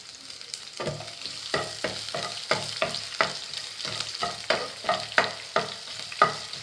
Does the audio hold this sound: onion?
yes